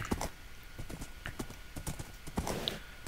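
Hooves of a horse clip-clop in the Minecraft Western-themed adventure, a quick uneven run of sharp hollow knocks close by, with a short whinny mixed in and no talking.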